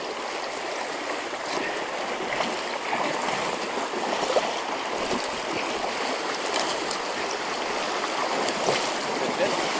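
A fast-moving, knee-deep river rushes in a dense, continuous roar of flowing water close by, steady for the whole stretch with slight surges and no voices.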